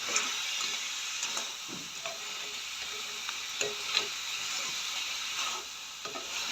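Small crabs for a Jaffna-style crab curry sizzle steadily in a pan, a soft continuous frying hiss broken by occasional light clicks and scrapes of stirring.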